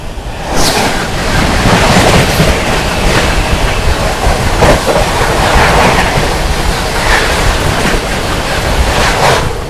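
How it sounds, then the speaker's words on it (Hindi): New Delhi–Sealdah Rajdhani Express crossing, a loud continuous rush of coaches with rumbling wheels and repeated sharp clacks over rail joints, mixed with heavy wind buffeting the microphone. "डिब्रूगढ़ राजधानी के बाद अब बारी है न्यू दिल्ली सियालदह राजधानी एक्सप्रेस की क्रॉसिंग की।"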